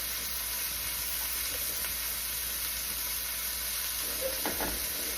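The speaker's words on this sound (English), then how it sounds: "So then I'm just going to give that a stir." Chili ingredients with ground beef sizzle in a pan in a steady, dense frying hiss, with a faint scrape of stirring near the end.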